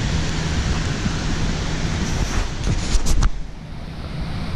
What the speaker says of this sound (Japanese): 白神山地ガリオの滝。